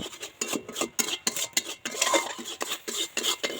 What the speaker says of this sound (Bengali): এটা নাড়িয়ে চাড়িয়ে একদম শুকনো শুকনো করে নেব